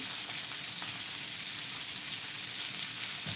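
Bangda mackerel crisp-frying in a pan makes a constant, fairly soft hissing sizzle with faint crackles, steady throughout and free of voices.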